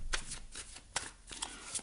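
Oracle light cards by Lise Bartoli are shuffled by hand, giving a quick series of crisp, close riffling flicks and slaps at an irregular rhythm, fairly quiet with no voice.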